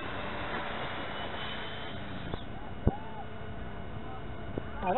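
A Freewing F-18C model jet flies on its maiden flight at a 4th of July event, its steady ducted-fan whine running throughout beneath people talking nearby, with a brief sharp knock partway through.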